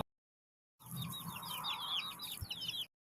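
Backyard chickens cluck and chirp continuously at close range for about two seconds, with repeated short high calls over a soft low rustle.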